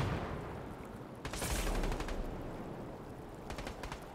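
Gunfire in the video game Fortnite: a quick burst of rapid automatic shots near the middle and another short rattle toward the end, moderately loud over steady background noise.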